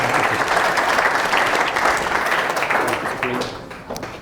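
An audience at a Green Spring Valley Hunt Club presentation breaks into warm applause, dense clapping from a full crowd that stays strong, then thins and fades out over a few seconds.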